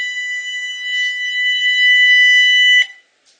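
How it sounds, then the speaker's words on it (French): A homemade alarm driven by a transistor oscillator through a loudspeaker blares a steady, piercing electronic tone with harmonics for nearly three seconds, then cuts off abruptly. "on peut même se servir du système pour s'en faire une alarme"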